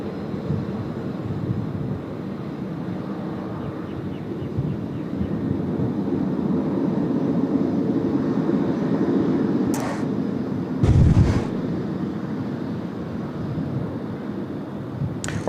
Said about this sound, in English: Bit of reverse thrust action as well.